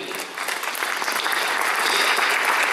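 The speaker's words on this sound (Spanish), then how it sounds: "Gracias, fuertes aplausos también." A crowd at an International Day of Indigenous Peoples event in Cajamarca gives loud applause, a dense, steady wash of clapping that swells slightly and holds through the moment.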